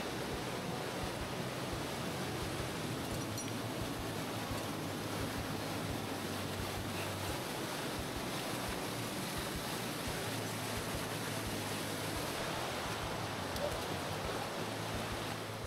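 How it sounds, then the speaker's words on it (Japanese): A waterfall at a mountain stream headwater roars with heavy spray, a dense, steady wash of rushing water filling the whole stretch, loud and unbroken. "すげえ滝がやってきたなすごい水しぶき"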